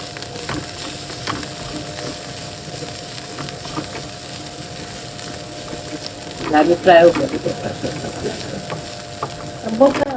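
Garlic and onion fry in a pan with a soft, continuous sizzle and occasional stirring scrapes, while a voice talks briefly over it now and then.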